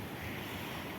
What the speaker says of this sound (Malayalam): നല്ല ശക്തിയിൽ മഴയുണ്ട്,